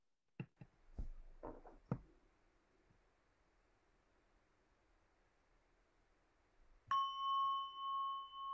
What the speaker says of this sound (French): Je vous propose d'inviter un petit son de cloche entre chaque question que je vais proposer